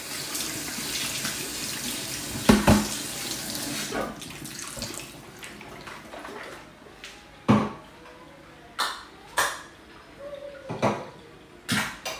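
Water runs from a tap in a sink while items are washed, a steady splashing stream broken by clattering knocks and rinsing bursts, close by and with no one talking.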